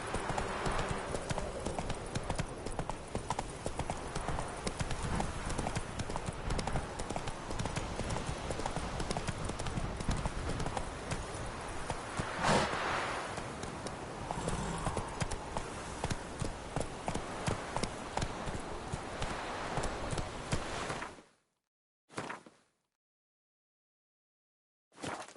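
Roach the horse's hooves clip-clop steadily in The Witcher 3, a continuous loud rhythmic trot for about twenty seconds before cutting to near silence with brief bursts at the end.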